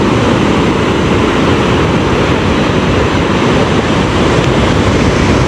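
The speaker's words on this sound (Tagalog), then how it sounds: "Hindi nga talaga kalmado yung dagat," High, rough sea waves break on the shore in a loud, continuous roar of surf, mixed with wind buffeting the microphone and no clear gaps between the breakers.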